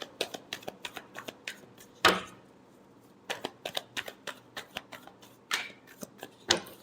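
Tarot cards shuffled by hand in quick bursts of crisp riffling flicks and soft slaps, a steady run of short card snaps with a brief pause midway, close and fairly quiet, no talking.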